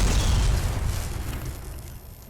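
A recharger energy weapon fires in Fallout: New Vegas, a loud booming discharge that rumbles and fades over about two seconds.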